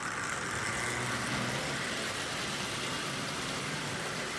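Lionel 8601 model train locomotive with its motor running, a steady close mechanical whir and rumble that keeps an even level throughout, with no voices.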